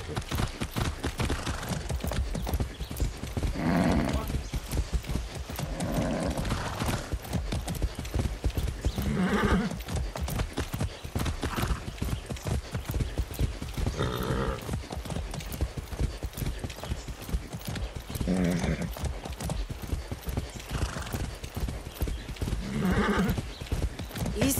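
Hooves clip-clop in a steady galloping rhythm as a horse runs in the Far Cry 6 video game, loud and close throughout, with occasional whinnies and brief game dialogue over the hoofbeats.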